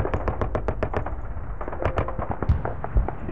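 Rapid volleys of artillery fire in the wargame Sealion '40, a battle at Maidstone with British defenders in bunkers: sharp booming impacts in quick uneven bursts, loud and close, with a few heavier thuds near the end.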